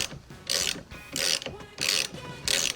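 A hand ratchet turns a 15 mm socket on a GMC Yukon, giving four evenly spaced bursts of close, crisp clicking, each a short back-and-forth pull, with no talk.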